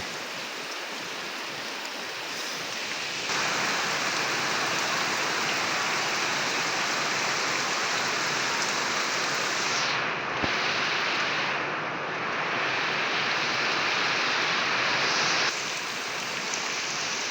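Heavy rain pours down during flooding around a house, a loud, steady, unbroken hiss of water with no voices.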